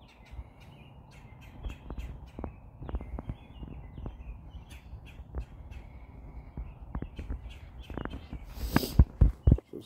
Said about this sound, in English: Somebody's asked me why the birds go crazy.